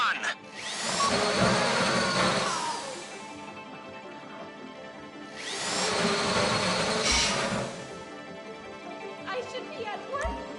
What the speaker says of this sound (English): If the drill burns out, this whole thing will take too long.